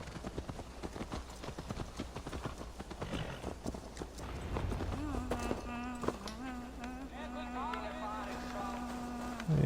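Horse hooves clip-clop at a steady walking pace in Assassin's Creed Valhalla, close and distinct, with a voice and a sustained tone coming in later under the steps.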